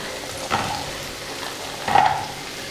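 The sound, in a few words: fried paneer and green pea masala sautéed and stirred in pan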